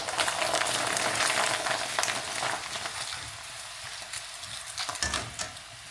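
Large bhungra fry in hot oil with a loud crackling sizzle that slowly eases off, plus a few stirring knocks, and no one talks.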